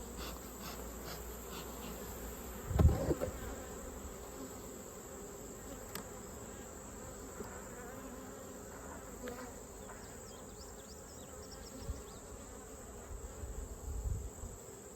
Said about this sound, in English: There's just so many bees in here.